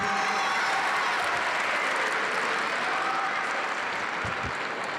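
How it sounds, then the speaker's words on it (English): Audience applause for Mayor Breed at the 2023 African American Honor Roll event, a dense, steady wash of clapping from a large crowd that holds loud and even for the whole stretch. "Let's give her a big round of applause for being such a great supporter of our schools."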